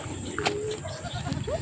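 Goat bleating near a rural home in the Philippines, two or three short, mid-pitched cries against a steady background hum, fairly close but not loud.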